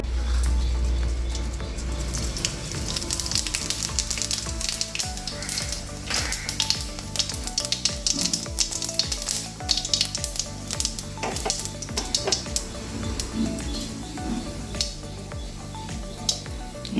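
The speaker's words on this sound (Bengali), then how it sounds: "এটা হচ্ছে শাক ভাজা লাল শাক ভাজা" Red amaranth greens fry in a pan with a loud, continuous crackling sizzle, punctuated by scraping stirs and clicks, close up with no talking.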